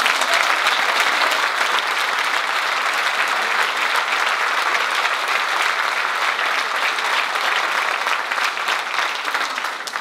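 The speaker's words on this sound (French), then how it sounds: "On peut encore l'applaudir." Sustained, dense applause from a crowd at a municipal council session celebrating a newly elected mayor, steady and loud throughout without pause.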